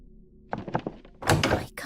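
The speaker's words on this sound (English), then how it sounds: "Why can't I open this door?" A door in the VR horror game Weeping Doll is rattled against its lock, with a few soft thunks followed by a louder, harsher clatter of the stuck door being yanked, close and alone.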